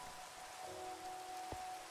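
Steady rain falls in Minecraft with the FTB Evolution modpack, a soft, faint, continuous hiss with a single brief knock near the end.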